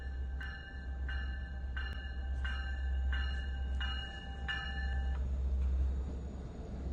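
A Long Island Rail Road shuttle train idles at Speonk station with a constant low engine rumble, while a bright ringing bell-like tone repeats roughly every half second before stopping.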